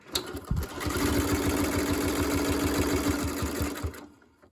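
A sewing machine runs a zigzag stitch along a quilt's binding edge, a rapid, steady mechanical clatter lasting several seconds before stopping abruptly.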